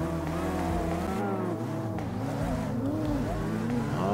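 A Mitsubishi Lancer Evo IX in the CarX racing game holds a steady engine drone after an upshift into fourth gear, with the pitch rising and falling as it revs, close and continuous with some speech over it.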